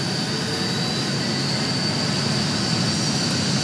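Boeing 737-800 jet engines in a flight simulator game whine and roar steadily at low throttle, a constant broadband rush with a thin high tone, no voices.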